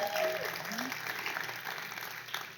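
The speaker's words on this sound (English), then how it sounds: "we're going to give you all a round of applause" Clapping from an audience thanking event sponsors, a continuous patter of hands with a speaking voice briefly audible at the start.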